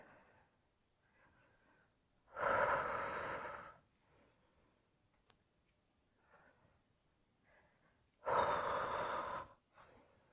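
Two loud, deep breaths during a yoga balance exercise, each a strong rush of air about a second long, separated by quiet stretches with only faint softer breathing between.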